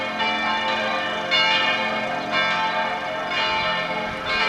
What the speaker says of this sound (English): The church across the river has bells pealing in reply.